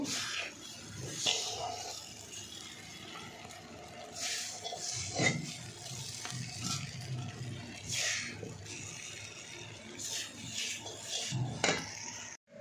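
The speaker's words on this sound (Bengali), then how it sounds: "দেখুন এবার আমি কড়াইটা দিয়ে নিয়েছি" A kadai is handled and set down, giving quiet scattered clanks, scrapes and knocks of metal cookware at close range, with a final thud before it stops.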